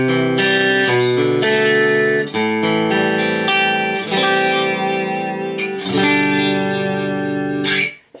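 Electric guitar on the center pickup position with a snappy, Strat-like tone, notes and chords ringing with chorus and reverb effects, loud and sustained over several seconds before fading out.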